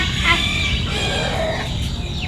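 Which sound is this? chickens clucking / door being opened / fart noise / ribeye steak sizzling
chickens clucking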